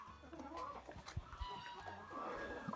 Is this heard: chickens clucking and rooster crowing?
yes